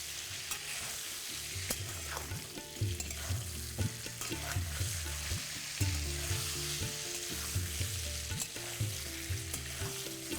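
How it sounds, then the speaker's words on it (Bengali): Pointed gourd (potol), 500 grams, frying with turmeric and salt, a loud continuous close sizzle broken by repeated stirring clatters and scrapes of a spatula, with no voices. "আমি এখানে 500 গ্রাম পটল একেবারেই ভেজে নিলাম।"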